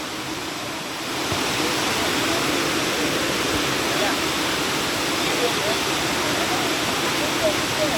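A waterfall roars in a dense, steady rush of water, loud and close, swelling slightly after the first second and continuing unbroken.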